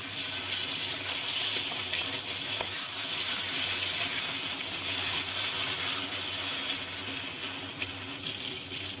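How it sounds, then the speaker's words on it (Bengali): Rohu fish pieces fry in hot oil with a steady, dense sizzle and crackle that holds loud and close for the whole stretch, with no talking. "বাকি মাছগুলো ভেজে নিচ্ছি।"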